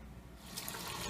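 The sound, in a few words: rinsing morel mushrooms in plain water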